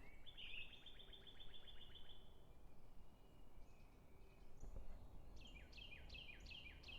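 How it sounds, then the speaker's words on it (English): Birds singing in a forest, with bright repeated chirps and trilled phrases over faint background ambience, fairly distant and quiet. "The forest is beautiful, the bird sounds are great,"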